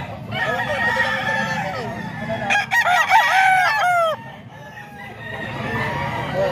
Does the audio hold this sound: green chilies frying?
no